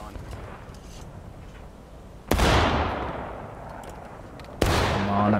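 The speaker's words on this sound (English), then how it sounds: "Got some shots off here." Two loud musket-style gunshots boom in the War of Rights game, each a sharp blast with a long decaying rumble, spaced a couple of seconds apart amid quieter distant fire and a speaking player.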